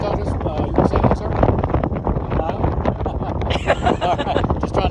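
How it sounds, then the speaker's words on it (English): Strong wind on a hilltop buffets the microphone in a continuous roaring rush with gusty surges, loud and close, with voices faintly audible beneath it. "it's pretty windy up here"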